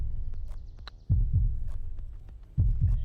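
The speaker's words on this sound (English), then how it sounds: "Bring the heartbeat on." Heartbeat sound effect during an eagle putt in PGA 2K23 golf, a deep, close lub-dub thump heard twice at a slow, tense pace, each pulse a low double beat over a quiet hum.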